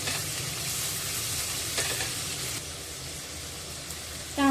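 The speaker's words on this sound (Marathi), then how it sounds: "इथे एक कांदा कापून घेतलेला आहे आणि तो आपण या तेलामध्ये घालून घेऊया कांदा पारदर्शक होईल इतका परतायचा आहे" Chopped onion sautés in oil for a dry bombay duck curry, a dense, even sizzle with soft stirring scrapes close by, ending in a sharp clink.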